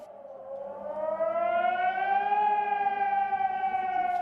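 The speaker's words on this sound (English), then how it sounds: "air raid sirens were heard for more than 3 hours" A civil defense air raid siren wails steadily in North Mitrovica, Kosovo, its tone rising slowly and then holding high, loud and sustained without any voices.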